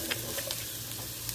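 Okra and plenty of sliced onion frying in a pan while being stirred, a soft close sizzle with light scraping strokes and a few faint spatula clicks, brief and steady with no voices.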